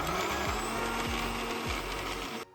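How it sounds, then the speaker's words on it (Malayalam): A blender whirs steadily for over two seconds, blending a smoothie of milk, cinnamon and honey, with a few faint rhythmic clicks in the motor drone before it cuts off abruptly near the end. "ഇനി നമുക്ക് നന്നായിട്ട് അടപ്പ് വെച്ച് അടിച്ചെടുക്കാം."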